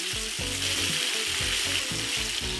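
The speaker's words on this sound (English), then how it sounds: "As the fish sears" An eight-ounce salmon fillet searing flesh side down in hot vegetable oil, a loud, continuous close-up sizzle and crackle with a steady spattering hiss, no voices.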